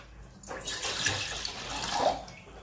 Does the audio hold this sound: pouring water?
yes